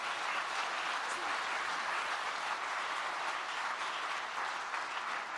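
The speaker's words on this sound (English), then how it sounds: "can we give a round of applause to our wonderful MCs and all the young people who are..." Sustained audience applause at a youth-run literature festival in Bhutan, a steady, even wash of many hands clapping at once that holds its level throughout.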